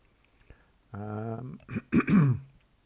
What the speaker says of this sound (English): Excuse me if I'm coughing a bit today.